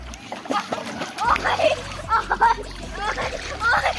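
A child dunks a beagle puppy in floodwater over a flooded rice field, sending up repeated close splashes and sloshing; children's voices talk and shout throughout.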